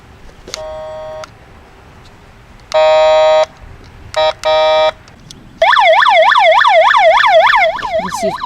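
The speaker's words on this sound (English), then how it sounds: "And then it's got a honking noise." A loud vehicle siren unit gives several short honking blasts with gaps between them, then switches into a rapid, continuous warbling yelp.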